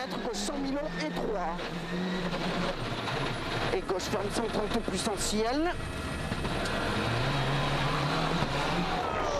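Citroën rally car engine on a World Rally Championship gravel stage in Sardinia, revving and shifting through gears up close with pitch sweeps, while a commentator talks over it throughout.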